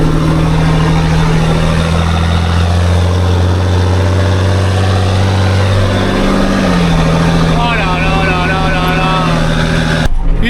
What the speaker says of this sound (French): Je vous montre quand même ce que c'est qu'un tracteur, mais un vrai tracteur, ce genre de tracteur.